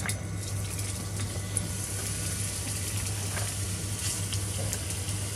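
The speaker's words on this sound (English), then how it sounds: "Now it's time to cook the stir fry vegetables in a hot pan with a bit of oil." Onions stir-frying in a hot pan with a little oil, giving a steady, even sizzle that runs throughout with faint crackles and no voices over it.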